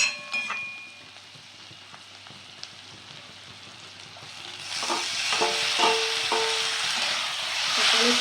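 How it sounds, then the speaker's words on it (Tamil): Onions and chopped tomato fry in a pan for egg masala. A few quiet stirs come first, then the sizzle swells into a steady, fairly loud crackle with a few spatula scrapes, and no one speaks. "இப்போ வெங்காயம் நல்லா வதங்கிடுச்சு நம்ம இது கூடயே வந்துட்டு தக்காளி போட்டுடலாம்"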